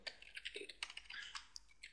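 Typing on a computer keyboard while entering data in an Excel spreadsheet: a close, quiet run of quick, irregular key clicks lasting a couple of seconds.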